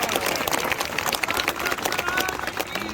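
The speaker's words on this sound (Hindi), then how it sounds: "समर्थन करो तो ताली बजाओ" Crowd clapping in support at an outdoor political gathering with a minister in Haryana, dense steady applause from many people throughout, with voices mixed in.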